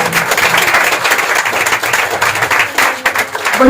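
Loud, sustained applause from a church congregation during a sermon, dense clapping filling the room steadily for several seconds with a few voices mixed in.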